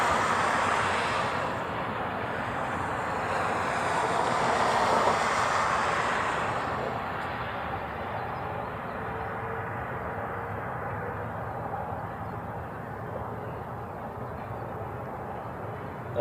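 A Delta Boeing 767-300 departing Honolulu for LAX, its engines a broad, steady distant roar that swells slightly and then settles into a sustained rumble mixed with wind.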